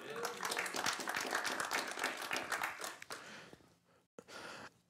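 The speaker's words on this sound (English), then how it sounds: "Let's give the Lord a clap again" Church audience clapping in praise during a talk about miracles, a dense patter of many hands for about three seconds, moderately distant, then fading into breathing and room noise with a brief gap.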